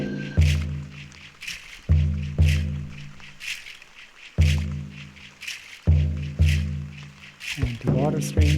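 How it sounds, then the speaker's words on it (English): Rainforest ambience with falling rain plays as a loop, a steady wash of noise beneath heavy, evenly spaced deep drum beats that dominate the mix. "Some rainforest with rain."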